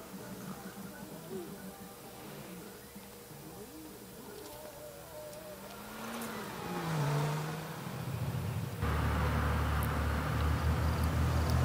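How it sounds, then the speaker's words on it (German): A car in The Sims 3 pulls away, its engine rising in a smooth revving whir that grows louder and fuller before settling into a steady drone over the game's background. "Und Mikey fährt jetzt einmal um."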